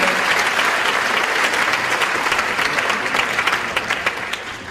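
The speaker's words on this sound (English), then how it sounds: "Please give them a big round of applause for all their hard work during the closing ceremony." Sustained, even round of applause from an audience at an IFAC 2008 closing ceremony, a dense wash of many hands clapping at steady loudness throughout, with no voices over it.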